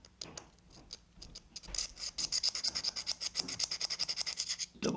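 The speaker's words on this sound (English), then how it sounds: "a little bit of a diamond file. I can feel a burr on the mouth here." Diamond file rasping across the mouth of a Jorgensen 102 low angle block plane to remove a burr, starting with a few scattered strokes, then a steady run of quick, close, even rasping strokes.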